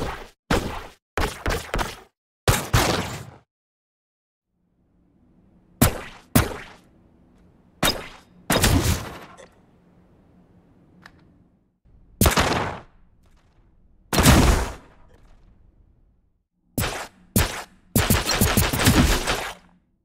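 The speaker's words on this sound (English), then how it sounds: "now, we'll take a look at all the guns and hit markers" Gun and hit marker sound effects built in Unreal Engine 5 MetaSounds, loud separate bursts of single shots and rapid automatic volleys with sharp impact ticks, split by short silences and a faint low hum.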